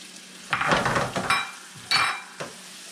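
Onions sautéing in olive oil on lowered heat: two bursts of crackling sizzle and stirring clatter close by, separated by a quieter moment, followed by a brief final scrape.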